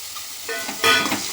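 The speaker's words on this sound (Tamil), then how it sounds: "இதை நல்லா கிண்டி விட்டுக்கலாம்." Tomato, beans, carrot and boiled chickpeas sizzle in a frying pan as a utensil stirs them, with scraping strokes growing louder in a short burst near the end.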